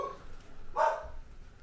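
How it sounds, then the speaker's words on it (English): Dogs bark nearby in one short, fairly loud burst that rises above a low background murmur, with the rest of the moment staying quiet. "can't hear anything over the dogs"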